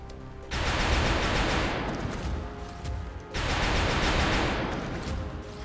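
Two long bursts of rapid automatic weapon fire from the XCOM Long War video game, loud and dense, each lasting a couple of seconds with a short gap between them, and no talk.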